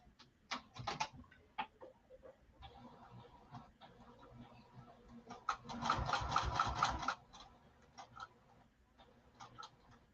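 A sewing machine stitches across canvas in short bursts of rapid needle clatter separated by clicks and handling noises, with one longer steady run midway, quiet and close.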